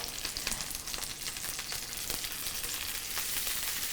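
Halibut fillets sear in hot oil in a pan, producing a continuous, fairly quiet crackling sizzle with scattered spits and pops throughout.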